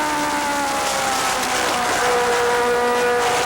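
Several Legends race cars roar around a half-mile oval, their engines a loud, continuous buzzing drone with shifting pitches as cars pass close by.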